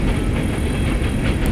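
A fast, long train rolls through town at a steady, loud rumble with no break, a continuous near roar of wheels and cars filling the whole stretch.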